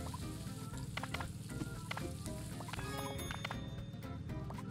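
A deep fryer in a cooking video game sizzles continuously, with a steady hiss of frying oil layered with small clicks and pops, close and moderately quiet.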